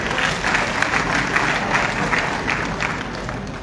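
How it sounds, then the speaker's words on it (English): An audience at a lecture on Ibadan breaks into applause honouring an author, a loud, continuous patter of many hands with a faint crowd murmur beneath. "I think he deserves an applause for that."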